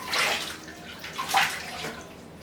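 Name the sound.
water splashing while rinsing face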